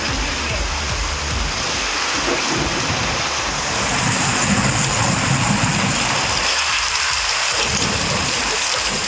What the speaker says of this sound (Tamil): சூறைக்காற்றுடன் பெய்த மழையால் குளிர்ச்சியான சூழல் உருவானது